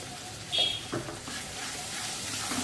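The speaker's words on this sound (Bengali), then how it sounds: "3-4 চামচ মতো আদা রসুনের পেস্ট দিয়ে দেবো" Ginger-garlic paste sizzles in hot oil, a soft, even hiss that stays faint and close throughout, with a small bump of stirring near the start.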